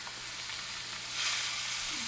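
Pork chops sizzle and fry in a hot pan, a steady bright crackle that swells louder partway through and stays close and continuous, with no talking.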